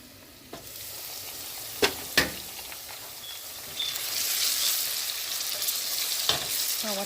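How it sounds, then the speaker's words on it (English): Tomato and spinach frying in a pan for stewed bitterleaf, a steady broadband sizzle that swells louder midway, punctuated by a few sharp utensil clicks and scrapes; close and continuous with no voices. "So we're gonna fry this until the tomato is cooked."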